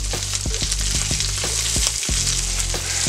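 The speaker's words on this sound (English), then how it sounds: "So we're flipping it over, cook it on the other side." A flipped meatloaf slice fries in a pan with a constant, loud sizzle and regular soft pops and crackles, close up with no voices.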